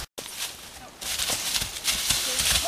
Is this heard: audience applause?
no